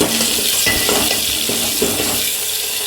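Onion and tomato fry in a pan, a loud continuous sizzle with periodic scrapes and clinks of a spoon against the metal, close up with no talking.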